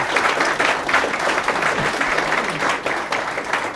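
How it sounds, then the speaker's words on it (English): Audience applause at an Economic Club event, a dense, steady wash of many hands clapping throughout, loud and sustained without pause. "Let's give them a round of applause here."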